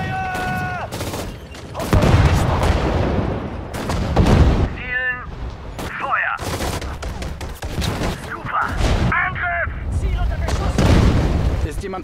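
Cannon blasts and rapid gunfire from a World War II battle at the Falaise Pocket in the Sudden Strike 4 strategy game, loud repeated booms and volleys throughout, with short barked voice commands in between.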